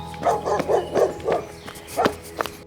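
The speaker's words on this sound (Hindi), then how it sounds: "ये कुत्ता तो जोर जोर से भौंक रहा है।" Dog barking loudly in a series of about seven sharp, close barks in quick irregular succession, standing alone with little else around them.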